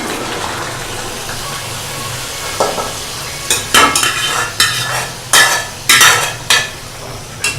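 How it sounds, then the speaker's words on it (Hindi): Pieces of bottle gourd go into a pan of dal and spices that is already sizzling with water, with a steady frying hiss and a run of sharp clattering stirs and scrapes that grow louder toward the end. "अब हम इसमें लौकी ऐड करते हैं।"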